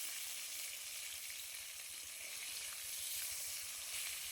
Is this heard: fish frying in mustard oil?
yes